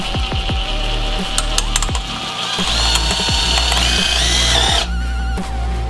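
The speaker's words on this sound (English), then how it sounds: "you can just use a regular apex on your drill to drive these things" A drill with an apex bit drives screws: whining motor bursts rising and falling in pitch, clicking ratchet-like chatter and a brief harsh grinding near the end, loud and close with no talking.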